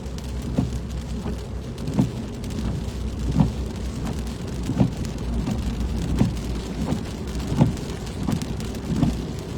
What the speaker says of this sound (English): I believe this is all rain that's kind of impeding my view here